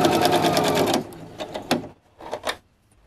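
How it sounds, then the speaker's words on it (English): A sewing machine runs a single straight stitch along the edge of a costume robe, a fast steady whirring for about a second, then stops with a few soft clicks and fabric shuffles; no talking. "I'm just going to do a single stitch all the way along this edge."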